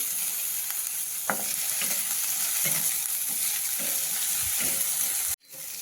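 Peanuts fry in a pan of hot oil for a traditional kurdaya vegetable dish, a loud, continuous sizzle with a few stirring clinks, no voices, breaking off abruptly near the end.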